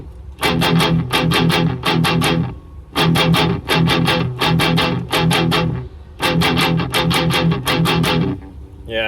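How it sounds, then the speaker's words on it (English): Heavily distorted electric guitar through an Enya amp's distortion channel plays chugging, rhythmic chord bursts in short repeated phrases, loud and close with brief gaps between runs. "So this is the distortion channel."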